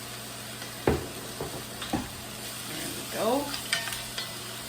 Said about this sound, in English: So we're going to saute that for just a few minutes